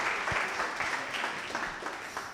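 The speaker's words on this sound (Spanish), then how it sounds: "Le damos de nuevo un aplauso a Camilo por su presentación." Applause from an audience at a workshop session, following a presentation; a steady wash of clapping from a room of people, moderately loud and continuous, with faint voices mixed in.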